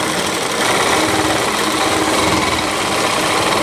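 A sewing machine stitches along the edge of a lehenga panel for a Rajputi suit, a loud, close, continuous rapid whirring rattle throughout.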